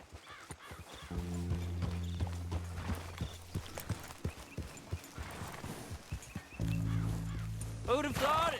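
Horse hooves clip-clop in a steady trot while riding in Red Dead Redemption 2, mixed with game music and occasional whinnies, with talk over parts of the ride.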